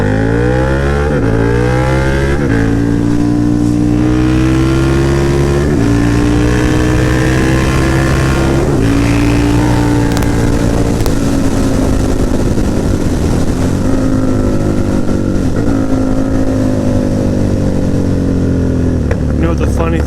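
A KTM Super Duke motorcycle rides close and loud, its engine revving up through the gears in repeated rising pulls with brief drops at each shift, steady roar throughout.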